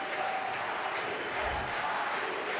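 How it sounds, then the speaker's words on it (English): Crowd of Italian spectators cheering at a women's team fencing match, Italy versus France, at the 2023 World Championships, a steady loud roar of many voices filling the hall without pause. "The Italian crowd getting right behind Alicia Volpi"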